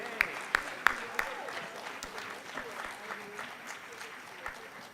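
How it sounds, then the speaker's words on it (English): Applause at a convention awards session, a few sharp loud claps up close over softer scattered clapping from the crowd that thins toward the end, with voices audible underneath. "let's give them one last round of applause"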